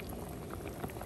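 Mackerel fish curry with grated coconut bubbles in a pot, a faint, steady simmer of small popping bubbles without voices.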